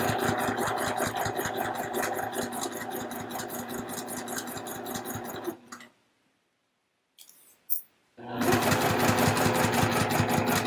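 A home sewing machine stitches a fabric zipper pouch with a fast, even mechanical whirr. It runs steadily, stops for a few seconds with a brief click in the pause, then starts again.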